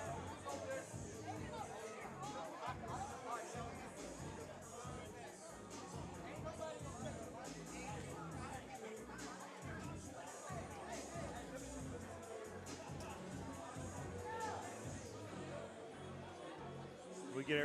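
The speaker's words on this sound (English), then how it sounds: "Got a little scuffle in the crowd." Crowd at a live fight event stirred up by a scuffle in the stands, a steady murmur of chatter and raised voices filling the room, with a commentator talking over it.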